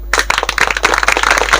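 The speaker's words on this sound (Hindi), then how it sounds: "एक जोरदार ताली।" An audience at a gathering on Dr. Bhimrao Ambedkar breaks into loud, close applause, with dense overlapping claps and no voices.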